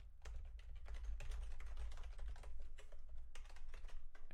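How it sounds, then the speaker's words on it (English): Typing on a computer keyboard while writing a short program, a rapid run of close key clicks in uneven bursts with brief pauses, quiet and without talk. "Except I need to type Charles correctly"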